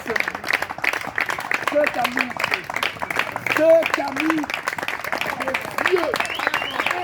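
A congregation applauds and claps steadily throughout a midday prayer service, the clapping dense and continuous beneath a speaking voice and faint sung tones.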